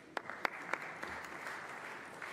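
Applause fills the Hungarian parliament chamber, a steady dense patter of many hands clapping with a few sharper, louder claps standing out, sustained and even throughout.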